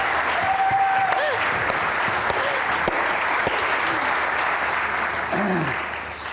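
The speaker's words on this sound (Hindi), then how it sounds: "आपकी भरपूर तालियों में हिना मारे।" A studio audience on a comedy show applauds to welcome a guest, a steady dense wash of clapping that fills the room and carries on throughout, with a few cheers and vocal calls mixed in before it eases slightly at the end.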